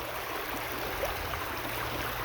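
Creek water streams steadily over bedrock at a sluicing spot, a constant broadband rush with no pauses and no voices.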